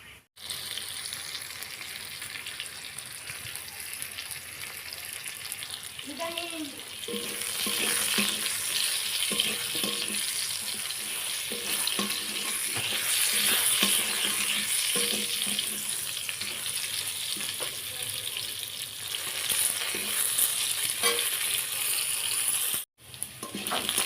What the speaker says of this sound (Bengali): তুলে নিয়ে মাছটা ভেজে মাছের তরকারিটা করে নেব